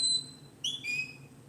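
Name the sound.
whistle command for herding sheepdog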